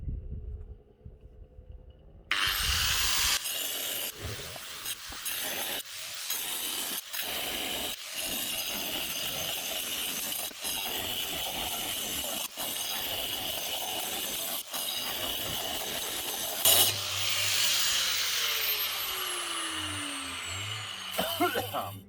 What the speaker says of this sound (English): Simple as a few cuts with the angle grinder.